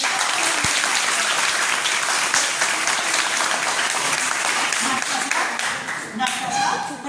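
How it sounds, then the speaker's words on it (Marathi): An audience claps for a school students' play, dense continuous applause filling the room, steady and loud, thinning slightly at the very end. "या विद्यार्थ्यांच्या नाटकासाठी टाळ्या वाजून तुम्ही"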